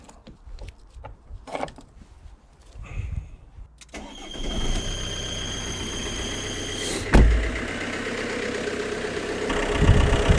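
A car engine cranks and catches at about four seconds, then settles into a steady idle close by, with a brief mechanical clunk near seven seconds and no voices over it.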